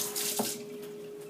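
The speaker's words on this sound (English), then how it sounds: "I'm just about gonna wash my hands" Running tap water as hands are washed at a kitchen sink, a steady close hiss of flow with a brief splash near the start, short and alone.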